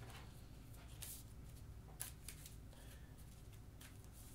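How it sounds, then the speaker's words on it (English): Playing cards for the card game Hanamikoji are shuffled by hand, a run of soft riffling rattles and quick snaps, close and quiet with no talking. "Shuffle the cards."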